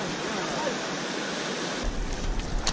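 Sea waves break and wash along the Moroccan shore, a steady broadband rush of surf that swells louder and heavier toward the end, close by with no clear talk.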